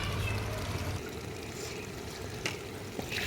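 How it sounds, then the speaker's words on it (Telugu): Water is poured into a big pan of frying chicken, a five-kilogram batch, making a steady close splashing hiss over the cooking noise, with a couple of brief utensil knocks near the end. "సరిపడాను కొన్ని నీళ్ళు అయితే పోసినాం."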